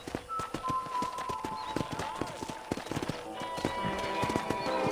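Horse hooves clip-clop in a steady walking rhythm in Red Dead Redemption, with birds chirping in the background and voices speaking in between.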